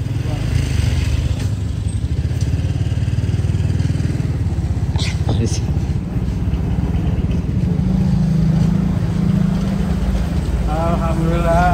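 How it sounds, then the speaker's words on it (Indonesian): A motorcycle engine runs steadily and loud throughout the ride, a constant low drone with wind noise, and brief voices come in near the end. "Ini motor kita, guys."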